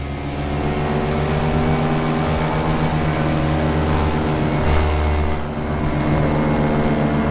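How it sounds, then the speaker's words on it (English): A paramotor's propeller engine powers up for a takeoff attempt in wind. It gives a loud, steady droning hum with strong low harmonics that holds through the clip and swells briefly near the end, with no talking. "Gonna power up, get my balance. The wing's pulling me backwards, the motor's pushing me forwards."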